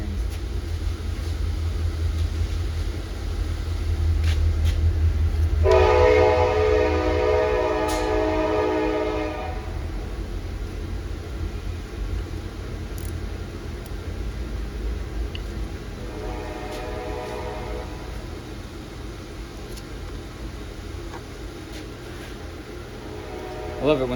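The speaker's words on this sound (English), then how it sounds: "Lovely train." A train passes nearby with a few sustained horn blasts, a long one and then a shorter one later, over steady low rumble and outdoor background noise.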